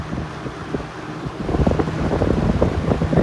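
A 1979 Lakewood P-237 electric fan runs steadily nearby, a broad airy whoosh of moving air with a low motor hum underneath, growing slightly louder partway through with no voices.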